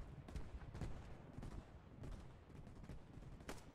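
Distant exchange of gunfire in Post Scriptum, a Second World War battle game, with scattered muffled rifle and machine gun shots in irregular bursts, faint and continuous.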